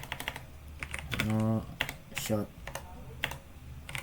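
Keystrokes on a computer keyboard while a network interface command is entered, scattered clicks through the clip with spoken voice in between.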